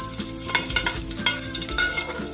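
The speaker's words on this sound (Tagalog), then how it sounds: "Magigisa na rin po tayo para sa ating chicken, tinola." Chicken tinola being sautéed in hot oil in a pan, with close, steady sizzling and frying crackle plus scraping stirring strokes throughout.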